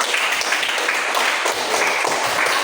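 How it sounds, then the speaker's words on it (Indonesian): Steady applause from a class after a group presentation, continuous clapping filling the whole stretch at fairly loud level. "Tepuk tangan dulu hasil presentasi."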